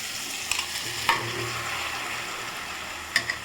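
Chicken stirred into onion and tomato frying in a pan, a steady close sizzle with a few sharp scraping stirs of the spoon against the metal.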